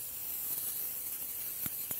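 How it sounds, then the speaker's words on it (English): Cooking spray hisses from a can onto a pan in a home kitchen, a steady close broadband spray running through the whole stretch with a couple of brief knocks near the end. "You're going to spray the pan and look beautiful."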